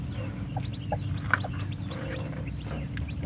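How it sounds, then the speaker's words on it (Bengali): A farm hen clucks softly near her newly hatched chicks, with scattered brief peeps over a steady low background hum, close and moderate in level. "এই যে দেখতে পাচ্ছেন মুরগির আজকের যে মুরগির বাচ্চা বেরোনোর কথা ছিল"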